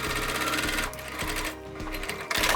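Sewing machine stitching bag parts in place with rapid mechanical bursts, stopping and restarting a few times, close and steady with no talking.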